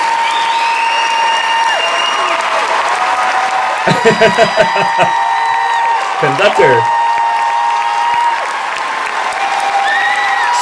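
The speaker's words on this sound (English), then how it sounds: "Listen to the crowd going wild." A large crowd applauds and cheers loudly after a men's choir performance, a steady roar of clapping, with someone talking over it in a few short bursts.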